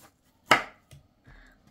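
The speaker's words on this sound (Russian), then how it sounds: "И нарезаем на кусочки сырнички" A knife slicing curd-cheese syrniki dough into pieces on a floured table: one crisp chop against the board, followed by a couple of soft, faint taps.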